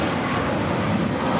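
Jet airliner roaring steadily on takeoff at Los Angeles International Airport, a loud, continuous broadband engine rumble with no break and no voices.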